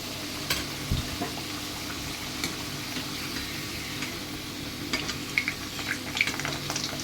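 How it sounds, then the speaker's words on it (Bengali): Potatoes fry in a pan, browning to a reddish colour, with a soft steady sizzle and occasional light ticks and stirring scrapes, faint and continuous throughout. "আলুগুলো আমি লাল লাল করে ভেজে নিই"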